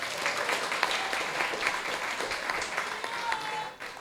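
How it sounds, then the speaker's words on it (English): Wedding guests give a round of applause during the speeches, a fairly faint but continuous wash of many hands clapping for about four seconds that tapers off at the end. "So I'll give you a round of applause for that."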